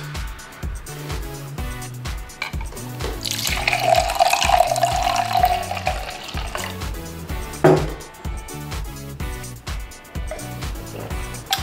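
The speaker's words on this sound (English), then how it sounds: "I'm gonna pour myself a glass." Fresh homemade almond milk is poured into a drinking glass, a short close stream of liquid swelling for a few seconds, followed by a light clink and drips, with no voices.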